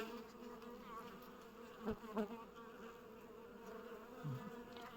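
Honeybees buzz steadily up close at an open hive, a dense droning hum with a few louder passes of individual insects near the listener.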